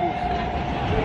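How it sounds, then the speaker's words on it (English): A Brooklyn subway train, a loud continuous rumble and roar with a steady whine, close and unbroken throughout. "We just got off the subway"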